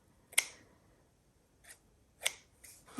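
Scissors snip through cheesecloth, cutting it into smaller pieces at a paper-crafting table: four crisp, close snips, one loud, then a faint one, then two sharp cuts near the end, with quiet between.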